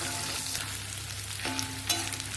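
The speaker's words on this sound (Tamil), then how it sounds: "இது எல்லாமே லோ ஃப்ளேமில் வதக்கணுங்க" Onion and garlic sizzle steadily in a pan over low flame while adamant creeper chutney is made, a continuous close frying hiss with a few soft stirring scrapes and no talk.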